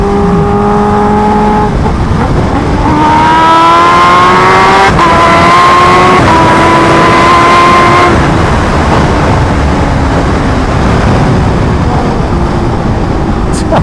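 Kawasaki H2R motorcycle engine cruising in sixth gear at low revs, a loud close drone with rising tonal sweeps as the engine pulls and wind rushes past, no talk.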